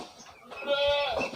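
A young goat, an Etawa crossbreed kid on a Surabaya goat farm, gives a single wavering bleat at moderate distance, rising and trembling over faint pen background noise.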